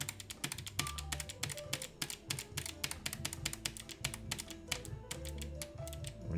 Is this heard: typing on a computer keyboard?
yes